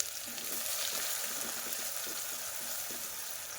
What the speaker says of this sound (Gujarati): ડુંગળી સરસ ટ્રાન્સપરન્ટ જેવી થઈ જાય ત્યાં સુધી આપણે શેકીશું, સાતળીશું.